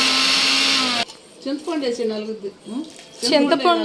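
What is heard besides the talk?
mixer grinder grinding fenugreek, ginger, rock salt and garlic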